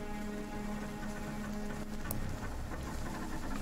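Steady rain downpour ambience, a dense continuous patter of drops with a faint tonal hum underneath, even and unbroken throughout, no voices.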